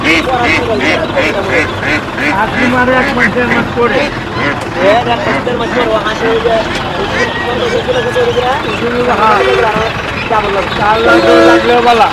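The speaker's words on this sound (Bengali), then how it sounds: "দেখুন খুবই সুন্দর চীনা হাঁস" Chinese ducks quack repeatedly at a busy village poultry market, their calls overlapping with constant crowd chatter, bargaining voices and light wind noise.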